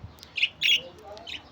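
Lovebirds, rainbow violet colour variety, give a few short, bright chirps close by, spaced through a quiet moment with brief gaps between calls.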